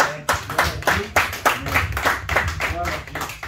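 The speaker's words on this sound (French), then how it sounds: "Acclamation, s'il vous plaît." A church congregation claps in a steady rhythmic beat of sharp hand claps, close and lively, with voices running underneath.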